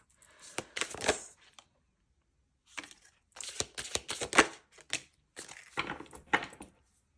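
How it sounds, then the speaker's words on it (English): A deck of oracle cards being shuffled by hand in several short riffling bursts with brief pauses between them, close and crisp, with no talk over it. "I'm going to shuffle you out 2 cards from this deck"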